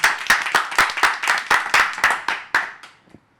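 A short round of clapping from a small group, brisk and close, fading out over a few seconds.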